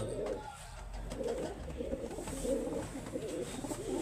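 A blue Goli pigeon from the Bapu Dhanne Wale loft coos steadily in low, throaty rolls that repeat through the whole stretch, close by and alone against a faint background hum.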